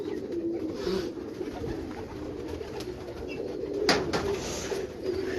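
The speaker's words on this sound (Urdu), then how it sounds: "اب تھوڑا سا ایک نظر دکھائیں بریڈر کبوتر لوگوں کو" Breeder pigeons on a rooftop coo softly and repeatedly at close range, low rounded calls over faint background noise, with one sharp brief knock partway through.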